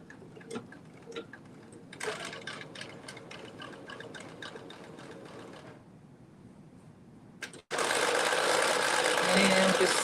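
A sewing machine stitches a blouse bodice with a steady run of mechanical ticking, starting about two seconds in and continuing at moderate level before a louder broadband burst near the end.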